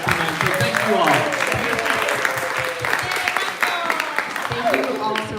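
Audience applause at an evening Pride event, dense steady clapping filling the room with voices mixed in and talk over it.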